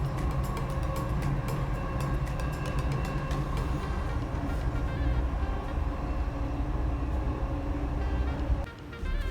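Steady rumbling drone of a Dubai Metro train riding toward the Expo station, heard from inside the nearly empty carriage as continuous wheel and motor noise with a brief dip near the end.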